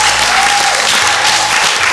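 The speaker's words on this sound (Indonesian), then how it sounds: "Kita beri tepuk tangan." Audience at an indoor office quiz contest clapping, dense steady applause lasting the whole moment, close and loud.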